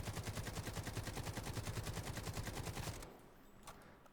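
An AK rifle in the video game Delta Force fires a long fully automatic burst without recoil control, loud rapid regular shots for about three seconds before cutting off, leaving a brief quiet tail.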